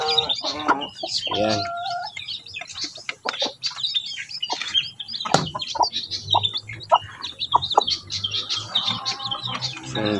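Basilan x Rhode Island Red chicks cheep and peep in quick, busy bursts while a hen clucks low and steadily nearby as they feed, and a voice speaks briefly at the start.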